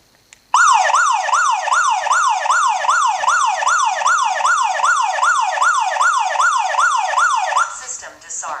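Staniot home security system alarm siren at its regular volume, a loud continuous rising-and-falling electronic wail that repeats steadily for about seven seconds before cutting off, alone with no talk.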